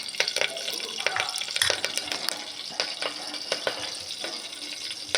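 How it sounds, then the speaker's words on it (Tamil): Fennel seeds and curry leaves spluttering in hot oil for a vegetable kurma, a steady crackling sizzle with sharp pops scattered throughout, close and continuous. "அதில் சோம்பு போட்டுக்கலாம் அதில் கருவேப்பிலையும் போட்டுக்கலாம் நல்லா பொரியிடும்"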